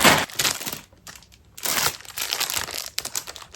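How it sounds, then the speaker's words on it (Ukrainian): Plastic packaging from an online marketplace order being opened, a loud close crinkling and rustling that comes in two bursts separated by a short quiet gap, with no talk. "Ну, давайте цей пакет відкривати."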